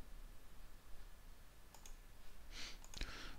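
Faint computer mouse clicks, a few soft, brief taps in a quiet room, with a small cluster of clicks near the end.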